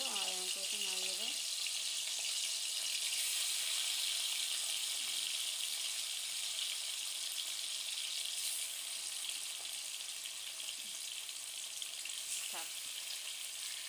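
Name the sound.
hot oil sizzling while cooking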